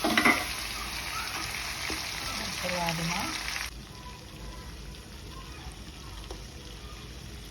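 Broiler chicken meat sizzles and fries in a hot pan, a steady loud hiss that cuts off partway through and drops to a quieter simmer, with faint stirring sounds.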